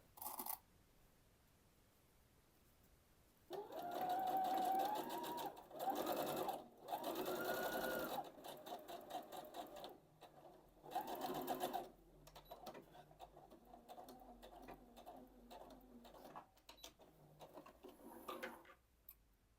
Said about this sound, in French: J'épingle puis je couds.